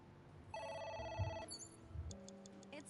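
A telephone rings with a bright electronic warbling tone, heard twice with a short pause between, fairly quiet and with no one speaking over it.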